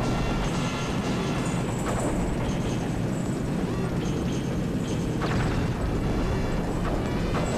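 On the Macbeth level of Lylat Wars, a train rumbles past in a continuous loud, heavy roar with blasts and clanks layered through it, steady for several seconds without any pause.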